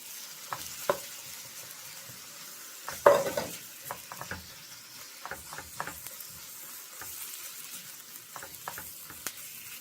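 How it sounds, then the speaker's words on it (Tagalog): Diced ingredients for omurice sautéing in a pan, with quiet stirring scrapes and soft sizzle; one sharper clatter of utensil against pan stands out, then scattered light taps continue. "Tapos, timplahan nyo ng asin at saka pepper. Yan lang. Tapos, igisa nyo na."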